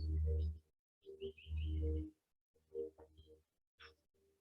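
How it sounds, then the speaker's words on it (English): Faint bird chirps flutter briefly over soft, low rumbling outdoor ambience that comes and goes in gentle swells. "You hear the sounds of the birds and the trees."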